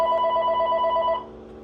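Telephone ringing indoors in a workshop during a Ford F-150 audio install, a short burst of rapidly warbling electronic tone that cuts off after about a second, moderately loud with no voices.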